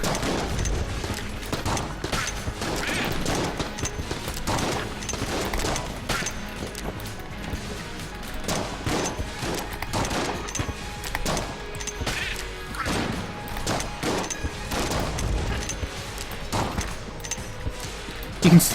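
Rapid gunfire from lock-on guns in the video game Enter the Gungeon, dense bursts of shots and crashing impacts throughout, continuous and busy with game effects layered over it.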